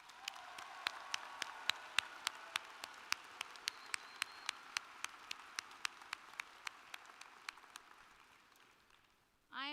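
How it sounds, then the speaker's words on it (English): Applause at Appalachian State University's College of Health Sciences commencement ceremony comes as a steady, evenly spaced run of sharp claps that slowly fades over about nine seconds, then a voice briefly starts at the end. "Let's give them all a round of applause."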